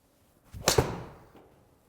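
A single sharp crack as a Callaway Apex 7 iron strikes the golf ball, close and crisp, with a faint trailing whoosh afterward.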